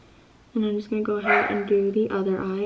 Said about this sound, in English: I'm so sorry that my dog keeps barking.